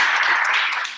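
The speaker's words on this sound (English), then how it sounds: "Give her a round of applause." Audience applause at an open-mic poetry reading greets the next poet, a short burst of dense, steady clapping that tapers slightly at the end.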